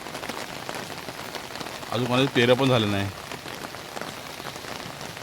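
Heavy monsoon rain falls steadily in rural Konkan, a dense patter on surfaces all around. Someone speaks briefly in the middle over the downpour, and the rain carries on alone before and after.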